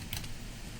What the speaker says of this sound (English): if it says to enter text, you just simply start typing